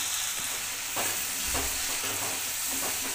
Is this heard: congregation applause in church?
no